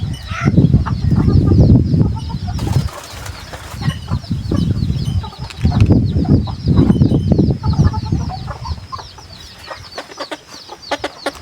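A small decoy rooster crows in repeated loud, close calls with clucking between them, while another bird's faint crowing sounds in the background.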